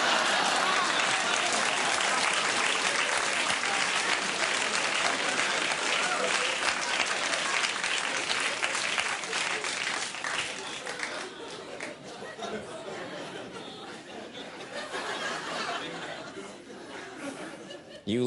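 A studio audience bursts into loud, sustained applause mixed with laughter and chatter, the clapping gradually thinning and softening over the long stretch before swelling briefly again near the end.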